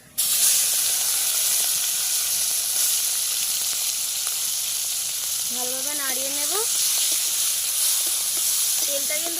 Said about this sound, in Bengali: এবার আমি চিংড়ি মাছটা ওই তেলেতে দিয়ে দেবো